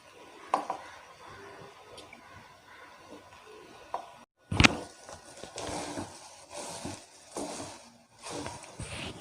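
Cooked rice for egg rice is stirred in a metal pot with a spoon, producing irregular scrapes and clinks. A sharp clatter comes midway, followed by busier mixing sounds.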